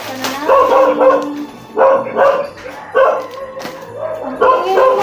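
Dogs at a home in the Philippines bark in a series of sharp, close barks in irregular bursts, with brief pauses between them, over a low background murmur.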